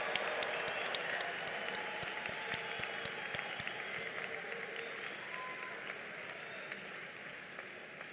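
A large audience applauds new graduates at a college commencement ceremony, a dense, steady wash of many hands clapping that carries evenly through the whole stretch without voices over it.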